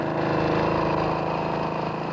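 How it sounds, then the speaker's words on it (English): A cartoon lawn mower engine running steadily, a continuous droning, buzzing hum with a regular pulsing chug, fairly loud and alone without voices. "Especially if Bayleaf happens to be cutting the grass."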